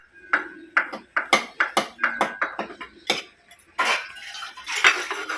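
Pots and a wooden ragi stirring paddle are washed, giving close, ringing clanks and knocks of metal cookware at an irregular, quick pace, with some water sounds between them.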